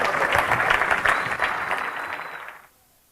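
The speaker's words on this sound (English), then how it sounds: "Give him a round of applause," An audience at a card-trick presentation breaks into a burst of enthusiastic clapping. The dense, loud applause holds for about two and a half seconds, then stops abruptly into near silence.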